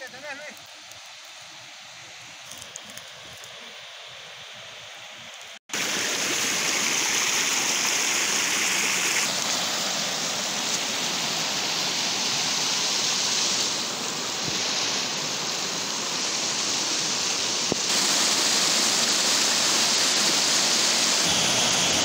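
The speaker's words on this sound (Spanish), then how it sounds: "Vemos ya la bruma, la brisa de la cascada" Waterfall at Catarata El Barro in Yuscarán, Honduras: after a quieter stretch, a loud, steady roar of falling water starts abruptly and fills the rest of the clip, close and constant.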